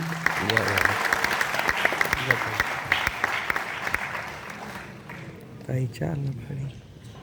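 Audience applause in a hall at a university Constitution Day event, a sustained patter of clapping that fades toward the end while voices talk over it.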